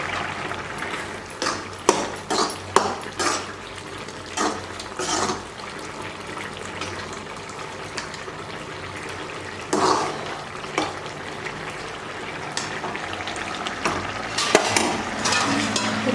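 Sambar bubbling in a pot on a home kitchen stove, a continuous low simmer with irregular wet pops and splutters, plus a few louder clinks and stirring knocks scattered through.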